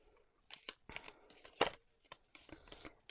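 Oracle cards from a Mystic Mondays Astro Alignment deck are shuffled, producing short papery riffles, slaps and rustles in uneven bursts, close and quiet, with no talk.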